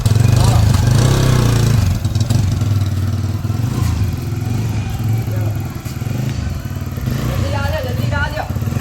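A motorcycle engine runs close by with a rough, throbbing idle that stays continuous throughout, heard under hurried speech from a voice near the end.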